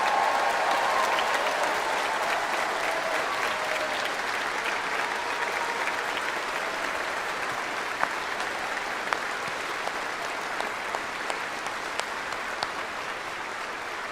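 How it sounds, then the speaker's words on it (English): Sustained applause from a large crowd honors the graduating class at a high school commencement, dense and even at first, then thinning gradually with scattered individual claps toward the end. "How about a round of applause for the graduating class of 2021?"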